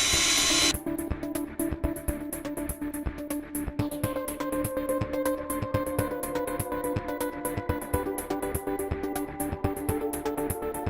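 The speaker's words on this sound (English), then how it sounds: "So I'm going to drill a pilot hole, 2 millimeter pilot hole." A drill bores a 2 mm pilot hole into copper pipe, whirring steadily and close up for about ten seconds after a brief loud start, with faint rhythmic grinding pulses.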